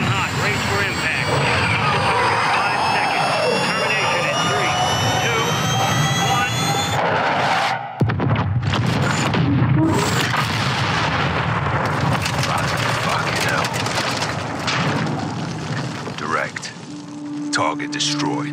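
Missile streaking in at high speed and detonating on its target in the Modern Warfare 2 video game: a loud, sustained jet-like roar cuts off abruptly, then a heavy explosive rumble with crackling debris follows, with game radio chatter in places.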